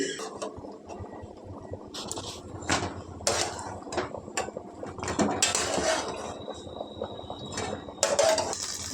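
Cooked drumsticks being set aside into a bowl in a home kitchen, with repeated clinks and clatters of utensils against dishes scattered through the stretch alongside steady background kitchen noise.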